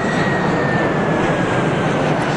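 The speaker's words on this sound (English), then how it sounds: "Ooh, look, a plane." A steady, loud airplane engine roar with a constant high whine fills the scene as the aircraft flies over during the opening cutscene of Super Mario Sunshine, unbroken and without voices.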